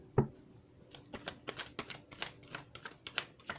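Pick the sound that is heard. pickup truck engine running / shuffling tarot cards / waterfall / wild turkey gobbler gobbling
shuffling tarot cards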